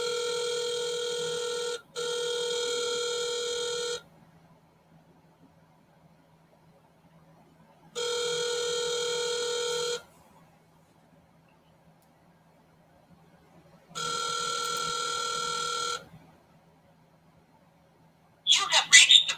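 A phone call rings out over the line before reaching voicemail: three clear electronic ring bursts about two seconds each, spaced by longer silences, followed by a brief clipped sound at the end.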